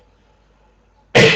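A single loud, sharp cough bursts out abruptly after near silence, close to the microphone.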